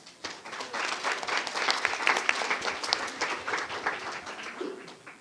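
An audience at a church general secretary's address claps to welcome a staff member, applause swelling quickly and staying dense before tapering toward the end.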